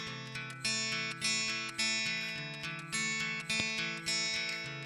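A homemade high-voltage Tesla coil plays music as a thin, buzzy electric tone, with notes stepping in pitch and each phrase pulsing in and out, thin and lacking bass.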